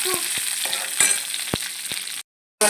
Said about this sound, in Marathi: लसण आणि हिरवी मिरची. त्यांना थोडं परतवून घेऊ